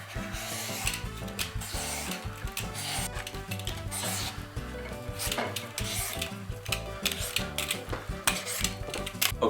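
A green papaya being peeled, dense rapid rasping strokes of a blade scraping the skin, continuous and close-up, with uneven bursts of scratchy friction and no talking.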